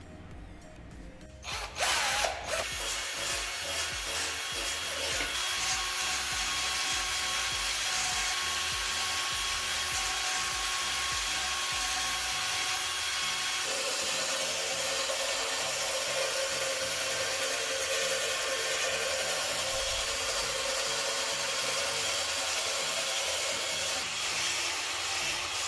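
A power drill fitted with a wire brush bit strips old paint from a rusty car part, producing a loud, continuous, close grinding whine that starts abruptly and shifts slightly in pitch as the load changes.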